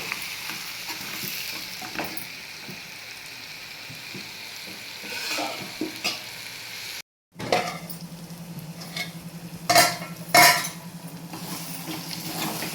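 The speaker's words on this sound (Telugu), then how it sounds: "మూడు టమాటాలు తీసుకోండి టమాటాలు మగ్గేంత వరకు మనం సిమ్లోనే పెట్టుకుందాం" Three tomatoes simmering in a pan on a low flame for a small prawn curry, a soft steady sizzle broken by a brief gap, then occasional spoon scrapes and metallic clinks against the pan, with no talk.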